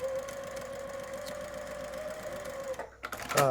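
A sewing machine stitches quilt pieces for a Star Spangled Variation quilt in a steady, fast mechanical hum. It runs for about three seconds, then stops with a few clicks and handling sounds.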